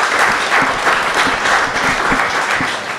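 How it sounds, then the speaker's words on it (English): An audience claps steadily in dense, sustained applause, close and loud, with no voices standing out. "Maybe a round of applause for Charlie as well."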